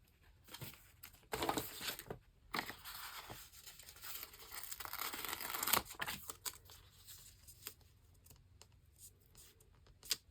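Paper border cut from a journal page, soft snips and crinkling paper handling at close range, faint and irregular over a low room hiss.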